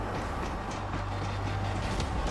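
A train rolls along in a zombie video game, a steady low rumbling drone with a sustained hum and faint clatter, continuous and fairly loud with no talk.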